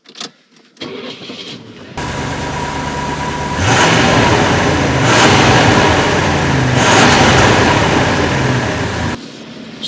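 A 1979 Mercedes-Benz 450SEL Euro engine cranks and catches after a short pause, then settles into a steady, loud mid-toned run as the car pulls away, swelling twice under acceleration before cutting off.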